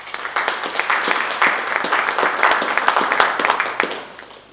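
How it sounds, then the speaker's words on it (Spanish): Warm audience applause welcoming a speaker, an agricultural development expert from the UN's ECLAC, at an evening event in Puno, Peru: close, lively clapping with distinct individual claps, swelling and then fading out near the end. "Lo recibimos con calurosos aplausos"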